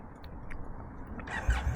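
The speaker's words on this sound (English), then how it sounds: "we're gonna get the bike started" A motorcycle engine starts up near the end, a quiet low rumble catching after a faint stretch of background noise.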